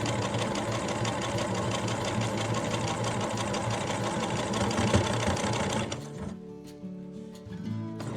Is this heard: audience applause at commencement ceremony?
no